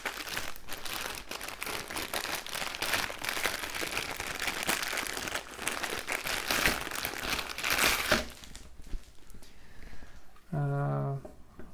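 A plastic-wrapped lip grip parcel is torn and opened, loud crinkling and crunching of packaging for about eight seconds, then quieter handling with a brief voice at the end.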